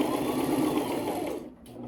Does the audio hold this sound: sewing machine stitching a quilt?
yes